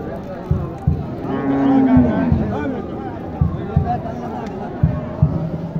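Sahiwal cattle at a busy livestock market, a drawn-out low moo rising over constant crowd chatter and nearby voices, with occasional thuds and bumps.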